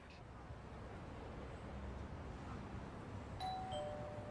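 A doorbell rings in the video game Lost Judgment, a single two-tone ding-dong chime near the end, clear but modest in level, over a steady low ambient hum.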